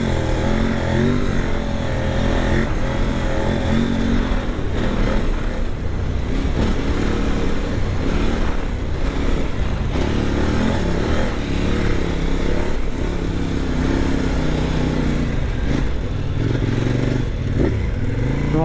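KOVE 800 Adventure motorcycle engine running steadily while riding on sandy ground, a continuous loud drone with wind rush and occasional rattles and scrapes, no talk over it.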